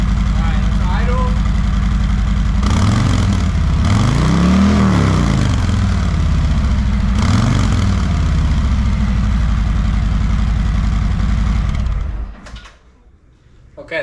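A stock-exhaust 2021 Harley-Davidson Road Glide idles up close with a deep, loping rumble, swelling briefly twice as the throttle is blipped, then cutting off abruptly near the end.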